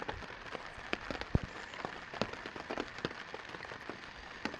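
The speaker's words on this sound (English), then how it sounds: "As you can hear, it's raining a little bit more now than it was." Light rain patters on a campsite in the Boundary Waters wilderness, with scattered soft drops and a few sharper taps over a quiet, even background hiss.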